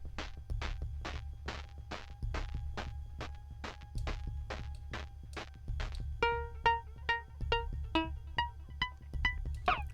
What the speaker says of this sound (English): And on the right we have more shakers and hi-hat sounds.